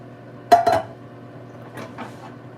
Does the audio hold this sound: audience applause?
no